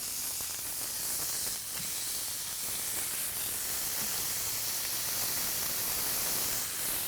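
80/20 ground chuck beef patties seasoned with salt and pepper sizzle steadily on a hot flat-top griddle, a loud, continuous hiss with no talking.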